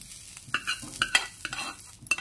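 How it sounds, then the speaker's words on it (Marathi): Green chillies sautéed in a pan give a brief burst of stirring scrapes and light sizzling, several quick close strokes over a couple of seconds. "आणि हे 5-6 मिरची टाकत आहे, ते मी आता परतवते"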